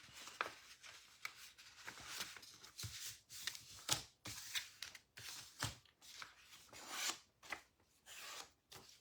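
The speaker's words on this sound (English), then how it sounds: "Take your blue paper and fold it in half" Blue construction paper is folded in half like a book during an elementary art craft, giving close, repeated crisp rustles and creases in uneven bursts with no talk.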